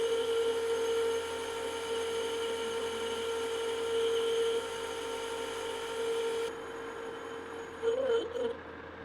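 Metal lathe turning down the diameter of an adapter flange for a capstan, a steady whining hum with a tonal ring that shifts near the end, moderately loud and close.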